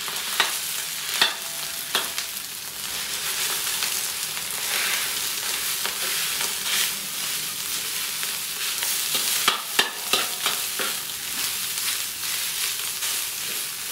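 Cooked rice being stir-fried in a hot pan for Filipino fried rice gives a loud, steady sizzle, with scraping and clattering spatula strokes spread throughout and no talking.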